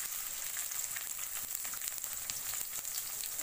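Chopped onion frying in cooking oil in a karahi, a steady dense sizzle that stays even and fairly close throughout with no talking.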